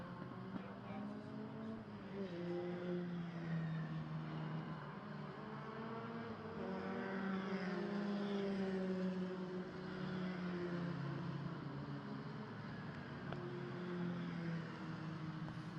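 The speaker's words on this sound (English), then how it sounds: "So up through Druids they go for the second time, and Neil McLennan was starting to get away" Formula Ford race cars climbing through Druids at Oulton Park, engine notes rising and shifting as several cars pass at a distance, fairly faint under a steady background wash.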